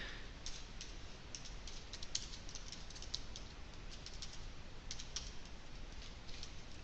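Computer keyboard typing Java code: steady, quiet clicking of keys running throughout over a constant background hiss, with no talk.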